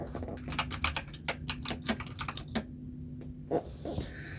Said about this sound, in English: So, yeah, I'm typing again.